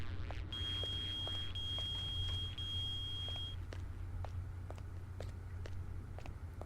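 Metal detector beep in the video game Hitman: Blood Money, a steady high electronic tone sounding alone for about three seconds over low humming game ambience and scattered soft clicks.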